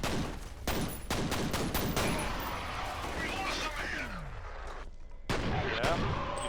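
Bursts of gunfire crack in the shooter game FEAR, with rapid shots in clusters and a short pause before another volley, while someone talks over the action.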